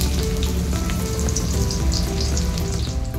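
Onion frying in well-heated oil in a kadai makes a dense, loud, continuous sizzle and crackle close by, with no voices.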